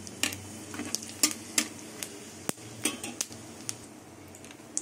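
Cumin seeds, bay leaf and dried red chilli tempering in hot mustard oil in a pan, with light sizzling under repeated clinks and scrapes of a metal spoon stirring against the pan.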